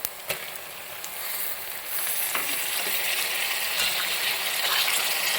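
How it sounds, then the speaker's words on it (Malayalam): Two finely chopped tomatoes drop into prawn roast masala sizzling in a pan, Achayan style with small shallots; a steady, close frying hiss swells after a brief clatter and holds, with light stirring scrapes and no voices. "ഇനി നമുക്ക് തക്കാളിക്ക് ഇട്ട് കൊടുക്കാം രണ്ട് തക്കാളിക്ക ചെറുതായിട്ട് അരിഞ്ഞത്"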